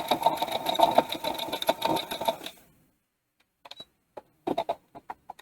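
A sewing machine runs a continuous line of stitches for about two and a half seconds, with a steady, busy mechanical whir. It then stops, followed by a few scattered light clicks.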